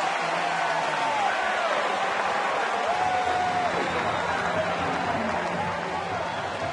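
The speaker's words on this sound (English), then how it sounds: "Listen to this crowd." A large baseball stadium crowd at a Reds home game against the Pirates roars and cheers in a dense, continuous wall of noise, with a commentator speaking over it.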